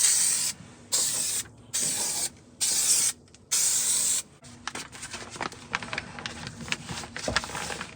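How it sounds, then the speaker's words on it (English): A can of 3M adhesive sprays in five loud, close hissing bursts, each about half a second long with short gaps, on a Nissan Titan rear sliding window repair. Softer handling and rubbing noises follow. "I'm just going to use some 3M adhesive and put this back"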